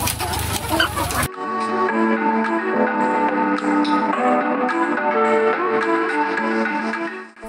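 Ready-to-lay hens cluck continuously inside a backyard egg farm poultry house, a dense, overlapping chorus of many birds at close to mid range, steady and loud, after a brief burst of other noise at the start.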